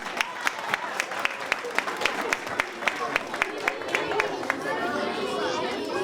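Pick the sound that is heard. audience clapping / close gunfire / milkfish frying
audience clapping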